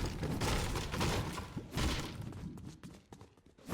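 An Art the Clown pickaxe in Fortnite chops at wood, a few heavy swings landing with dull thuds, then a scattered run of softer knocks before a final loud hit.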